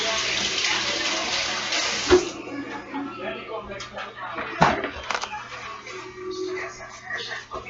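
Running tap water hisses steadily while hands are washed, then cuts off, followed by a couple of knocks and handling sounds in a kitchen, with a person talking over it.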